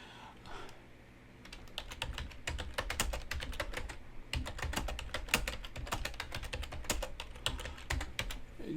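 Rapid, uneven keystrokes clatter on a computer keyboard close up, typing in quick bursts with brief pauses.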